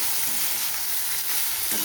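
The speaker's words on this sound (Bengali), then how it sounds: "এবার আমাকে খুব ভালোভাবে ঢাকা দিয়ে দিয়ে অল্প আঁচের মধ্যে ভেজে নিতে হবে" Ridge gourd and onions fry in a covered pan over low heat, giving a steady, close, even sizzle with a fine crackle that holds throughout.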